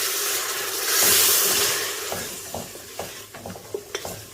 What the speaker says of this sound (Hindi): इसमें अब थोड़ा सा जो है मैं पानी डालूंगी